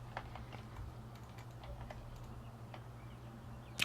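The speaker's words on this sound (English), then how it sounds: "Oh, boy, I'm using the fancy keyboard right now." Steady clicking of keystrokes on a fancy computer keyboard, fairly close and even in rhythm over a low constant hum, with a louder knock right at the end.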